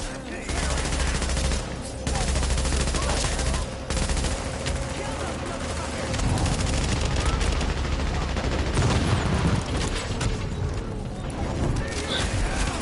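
Light machine gun fire and grenade blasts from The Division shooter game, with sustained dense bursts of automatic gunfire and heavy explosive booms filling the whole stretch, loud and continuous.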